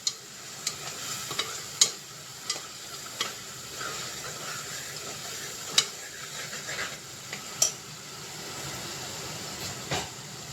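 Chicken curry with ginger-garlic paste being stirred in a pan: a constant hissing sizzle with irregular spoon clinks and scrapes against the metal, close by.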